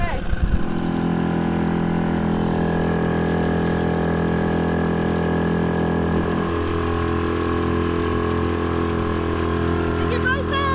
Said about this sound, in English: Fire up our new and improved dinghy.